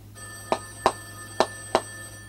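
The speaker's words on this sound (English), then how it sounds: "Phone would ring." Telephone ringing indoors, four short sharp electronic rings in an even rhythm, fairly close and clear over a low steady hum.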